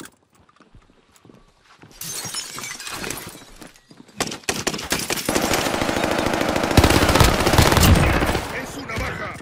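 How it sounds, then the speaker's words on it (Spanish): Gunfire in Call of Duty Warzone Pacific, starting as scattered sporadic shots, then building into sustained loud automatic fire mixed with clattering impacts and debris, close and intense toward the end. "¡Disparan por aquí!"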